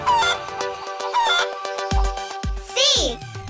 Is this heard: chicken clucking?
yes